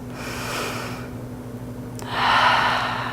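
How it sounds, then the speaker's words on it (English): During a yoga spine twist, a slow deep breath is drawn in and then let out in a longer, louder exhale, close and soft against a quiet room hum. "Deep breath."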